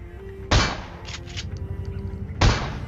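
Two loud shotgun blasts from a video game, fired at an armored tank, with a sharp crack about two seconds apart over steady game background noise and faint clinking between.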